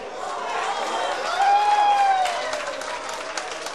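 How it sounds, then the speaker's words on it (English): Spectators at a professional nine-ball billiards match applaud and cheer, a loud continuous wash of clapping that builds toward the middle and gradually settles, with a thin whistle line above it. "The crowd is going crazy with every shot that this guy makes."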